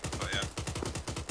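Rapid automatic gunfire in the ArmA 3 military shooter, a steady run of close, evenly spaced shots filling the whole moment without a break.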